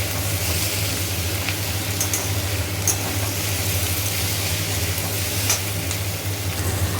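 Onions fry in a pan with already-fried potatoes, giving a steady, even sizzle that runs without a break, with a few faint clinks of stirring near the mic.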